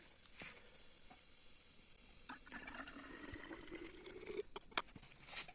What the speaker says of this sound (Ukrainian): І буду лити в дистильовану воду.